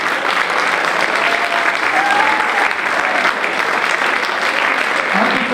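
Sustained audience applause for a singer-songwriter taking the stage at an Italian music award event, a dense continuous clapping from a crowd throughout.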